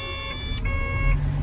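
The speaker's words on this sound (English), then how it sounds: "Does all its squawking at you." Steady electronic alarm tones from a DL420 loader sound on push-button start, sustained high pitched beeping that shifts pitch midway, close and continuous in the cab.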